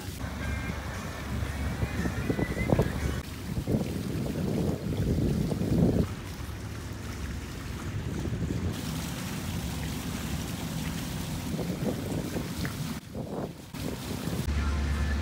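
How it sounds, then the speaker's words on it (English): A motor boat cruises on a flat, calm sea in the Florida Keys, its engine a steady low drone mixed with heavy wind buffeting the microphone and water rushing past the hull, continuous throughout. "been motoring here for a few hours"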